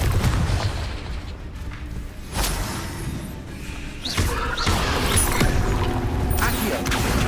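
A Confringo blasting spell goes off in Hogwarts Legacy with booming, thudding explosive impacts amid game noise, as a voice speaks over the action.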